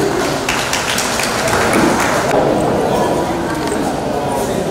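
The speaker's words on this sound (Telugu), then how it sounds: "ఒకసారి మన చప్పట్లతోనే స్వాగతిద్దాం ప్లీజ్" Welcoming applause for visiting American students at a cancer hospital, a continuous crowd clapping at steady loudness, rising slightly in the middle before tapering.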